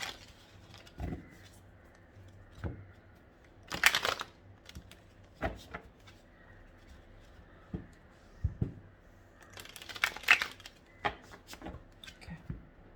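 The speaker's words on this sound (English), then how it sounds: "One last shuffle." Tarot cards are shuffled in a few quick riffling bursts, with soft taps and handling sounds between them in a quiet room.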